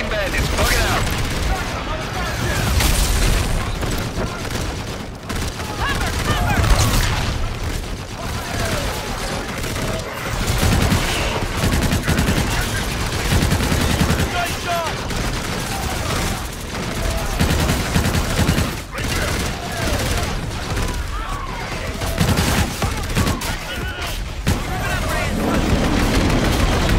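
Video game gunfire from Call of Duty Infinite Warfare, a dense, continuous barrage of shots, bursts and booms throughout, with radio-style voices talking over the combat.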